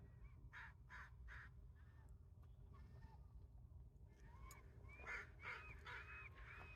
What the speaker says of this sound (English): The seagulls are bothering the heron, and the heron's flapping its wings at the seagulls.